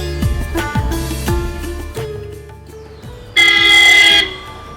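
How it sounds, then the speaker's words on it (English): Car horns honk in heavy Lucknow street traffic, several overlapping short toots and longer blasts, loud and close. One sustained blast near the end is the loudest. "They honk all their horns in Vietnam, but they seem louder here."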